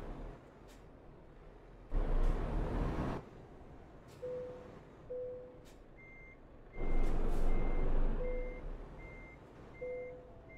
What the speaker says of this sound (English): So we'll just get this truck parked up and have a word with the transport manager.